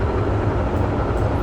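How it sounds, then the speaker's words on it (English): Train in Train Sim 2013 running at speed: a steady, dense low rumble and rolling rail noise that holds even and unbroken throughout, with no voices. "This train is pretty fast"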